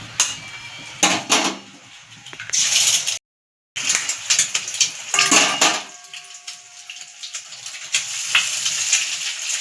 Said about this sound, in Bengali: 3টে ডিম আমি ফাটিয়ে নুন দিয়ে ঝুড়ো করে নেব